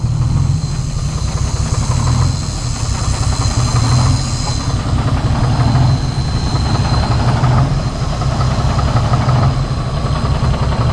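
6-71 Detroit Diesel engine idling after a revival attempt: loud, steady low rumble with a throbbing pulse, continuous throughout and close by, no talk.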